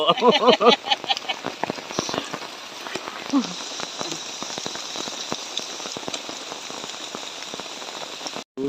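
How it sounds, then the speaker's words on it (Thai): Rain falls steadily on an outdoor surface, a dense patter of drops with some louder splashes near the start, continuing evenly to the end without speech. "ยังฝนตกอยู่ครับ"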